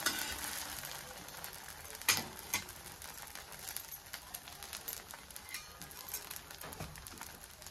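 A vermicelli breakfast patty sizzles softly in oil in a pan, a quiet continuous hiss broken by a sharp scrape and clatter as it is flipped, then light spatula taps.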